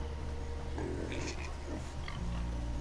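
Pigs in the video game Minecraft Story Mode give a few short grunting oinks over a low background hum, fairly faint and brief, with no speech.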